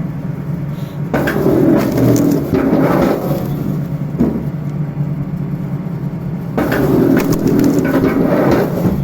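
An Artmash rail log splitter works through firewood, giving loud crunching and cracking bursts of splitting wood between quieter stretches of low mechanical rumble, close by.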